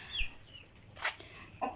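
A chicken in a video game clucks three times in short, separate calls spread across the moment, fairly close, with no talking over them.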